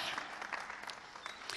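Studio audience applause welcoming a guest onto a French-language TV talk show: continuous, fairly faint clapping from many hands with a few sharper claps standing out, heard alone with no talk over it.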